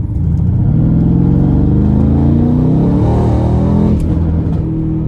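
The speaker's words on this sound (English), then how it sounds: "So starting the test drive in this C63S Brabus 900, let's give it some throttle here." A 2019 Mercedes-Benz C63 S AMG Brabus 900 accelerating hard, its engine revving up through rising tones with a loud throaty roar, close from inside the car, with a gear change near the end.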